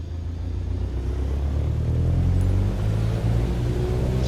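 In Microsoft Flight Simulator, an aircraft engine runs at full takeoff power as a steady, loud, low droning roar that builds slightly and holds without a break, with no speech.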